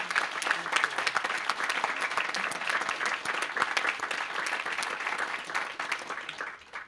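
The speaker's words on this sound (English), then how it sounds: "So a round of applause for Jennifer." Steady applause from a seated audience at a UNICEF statistics and monitoring meeting, many hands clapping evenly for several seconds before tapering off at the end, with no talking over it.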